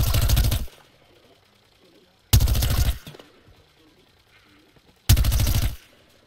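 Three loud bursts of automatic fire from Plants vs Zombies Garden Warfare, each lasting under a second and spaced a couple of seconds apart, with quieter game sounds in the gaps.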